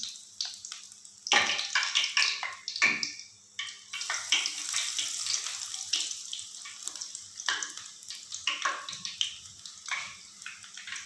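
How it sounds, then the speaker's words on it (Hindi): Eggplant fritters sizzle in hot oil, a close, crackling hiss that swells in bursts as pieces go in, then settles into a steady bubbling fry. "जी ये ऑयल गरम है और इसमें हम जो है बैंगन उनको फ्राई कर लेते हैं।"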